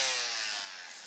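A 3D-printed helmet is sanded in a short, steady, close-up hiss of abrasive rasping that eases slightly partway through.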